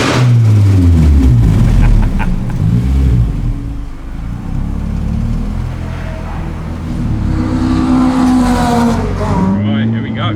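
A K24 turbocharged Ford Fiesta accelerates hard around the Brands Hatch circuit, the engine note climbing and dropping through gear changes, loud and close from inside the car, with a voice talking over it.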